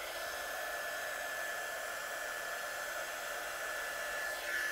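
A handheld heat tool blows hot air to melt embossing powder on paper, producing a steady, close, whirring fan hiss that holds evenly throughout.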